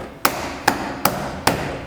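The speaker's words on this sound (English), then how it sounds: "Hammer that shit in." A badge on a BMW E46 is struck four times with a hammer, sharp evenly spaced taps close up with no talk.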